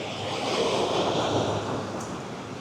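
Ocean surf rolls onto a Los Angeles beach, a steady broadband wash of breaking waves with some wind, continuous and moderately soft, with no voices.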